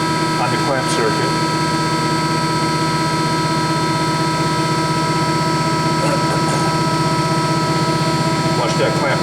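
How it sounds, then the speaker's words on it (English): Extrude Hone 8/6 Vector abrasive flow machine clamping up as its booster pump runs, a constant loud industrial hum and drone with steady tonal whine, continuous throughout with faint talk underneath. "Give it a few seconds, let that booster pump kick in."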